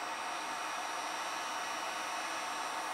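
Heat gun running under high load from a 12-volt off-grid inverter, a steady, even blowing roar with no breaks and no talking.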